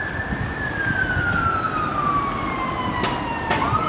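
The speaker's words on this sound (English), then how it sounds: "It's a fire engine." A fire engine siren passing on a London street, one long wail sliding slowly downward in pitch over steady traffic rumble, with a couple of sharp clicks near the end.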